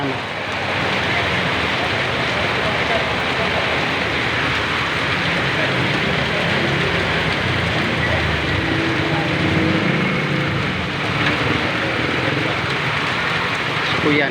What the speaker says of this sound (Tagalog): ang lakas ng ulan sa ngayong mga oras na to